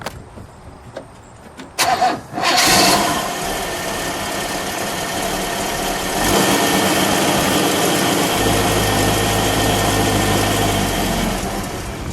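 A 1958 Chevrolet Impala V8 cranks briefly, then catches and settles into a loud, steady idle, with the rumble deepening toward the end.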